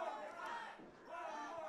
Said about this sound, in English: The crowd chanting for one more time.